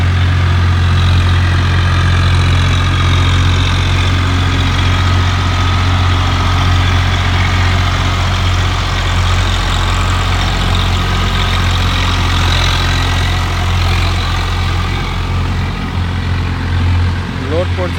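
A Swaraj 744 FE 4x4 tractor engine runs steadily in muddy conditions at about 1800 RPM, a deep, continuous rumble close by for the whole stretch, with voices talking over it.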